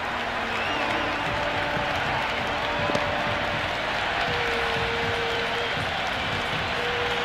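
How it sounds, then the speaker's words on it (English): A stadium crowd on day one of a cricket match in the video game Cricket 26 cheers a boundary as a steady, dense wash of applause and crowd noise, continuous throughout. "Good crowd in this morning for day one."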